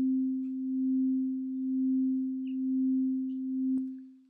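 A single steady tone from an Ableton Operator synth with its oscillator volume modulated, held alone with a slow, gentle swelling and dipping in loudness about once per second before it cuts off.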